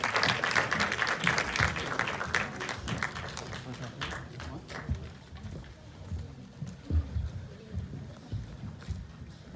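An audience at a 2019 film festival post-screening discussion applauds the short-film directors, with crisp claps loud at first that thin out and fade over several seconds amid room noise.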